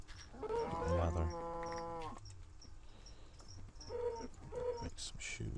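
Cows moo in the video game Minecraft, one long low drawn-out moo followed by two shorter moos a couple of seconds later, loud and close with no talking over them.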